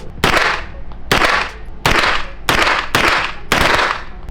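Six loud, sharp gunshots ring out one after another at a shooting range, each blast close and followed by a short decaying echo, spaced roughly half a second to a second apart.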